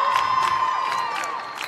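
A crowd cheers and shouts at a girls' Catholic League final basketball game, Sacred Heart against St. Mary's, as the starting lineups are introduced. The roar is loud and sustained, with whoops rising above it.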